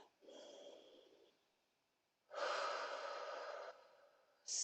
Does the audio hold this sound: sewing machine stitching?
no